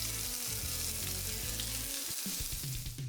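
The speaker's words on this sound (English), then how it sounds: "I'll give these a quick sizzle until they start to soften" Garlic, ginger and spring onion sizzle steadily in sesame oil in a hot pan, a loud, continuous crackling fry with faint stirring underneath.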